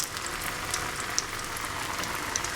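Veg cutlets sizzling in hot oil in a pan, giving a steady, close crackling fry with small pops scattered throughout.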